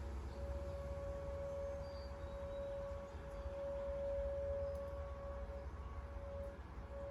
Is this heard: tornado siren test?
yes